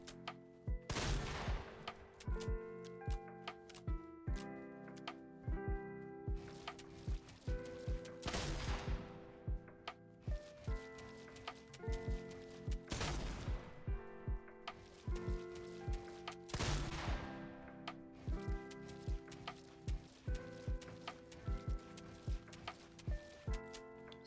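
Shotgun blasts in Fortnite ring out as sharp broadband bangs roughly every few seconds over steady game music and ambient tones, each shot loud with a brief decay.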